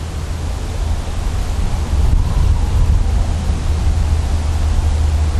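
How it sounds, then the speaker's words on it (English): Strong hurricane wind roars steadily outdoors, a loud, dense rush of blustery noise battering the microphone for the whole stretch, with no voices. "the wind is so strong"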